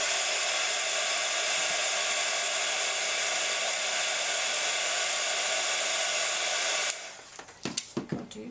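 A hair dryer used as a heat source to warm up a small item blows a steady, loud broadband whoosh for about seven seconds, then shuts off, leaving a few faint handling clicks.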